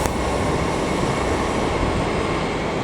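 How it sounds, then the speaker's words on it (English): A pair of Northern class 158 trains passes through Leeds station, a loud, close, continuous rumble and rush of wheels on rails with no voices. "And there goes a pair of 158s operated by Northern."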